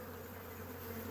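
Honeybees of a Russian Scion strain buzz near a swarm trap, a steady, dense drone of many wings that holds at an even level throughout, with no voices.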